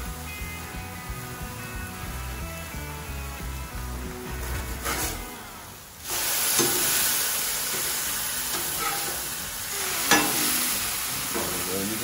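Thin burgers and buns frying on a Blackstone griddle in hamburger grease, a steady close sizzle with spatula scraping strokes and a brief lull midway before the hiss swells louder.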